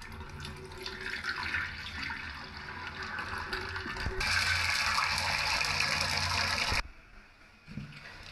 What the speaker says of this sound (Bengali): কয়েকবার পানি দিয়ে আমরা এখন পরিষ্কার করে নেব।